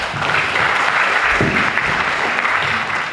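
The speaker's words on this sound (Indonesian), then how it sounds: "Mau lihat Sarima Boy sekali lagi tepuk tangan" An audience applauds at a Batak clan family New Year celebration in Bandung, producing a dense, steady wash of many hands clapping at constant loudness throughout, with faint voices mixed in.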